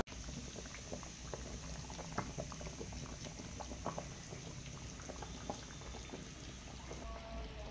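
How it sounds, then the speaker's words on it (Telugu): Fish curry made with raw tamarind simmers on low heat, giving a quiet, continuous bubbling with soft irregular pops and blips close by. "దీన్ని దగ్గర పడేంత వరకు మళ్ళీగా సిమ్లో నిదానంగా ఉడికించుకోవాలి."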